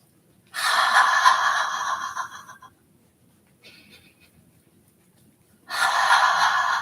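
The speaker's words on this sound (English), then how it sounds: "So breath in." Deep audible inhale during a qigong exercise, a long breathy rush lasting about two seconds, then a short faint breath and another strong inhale near the end, close and clear with no talking.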